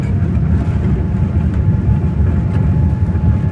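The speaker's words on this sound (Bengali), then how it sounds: "বিমানটি উড্ডয়ন করতে যাচ্ছে" An Oman Air airliner takes off from Muscat, heard from inside the cabin as a loud, steady, low roar of engines and rumbling that fills the space without pause.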